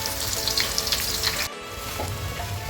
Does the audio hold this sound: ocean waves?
no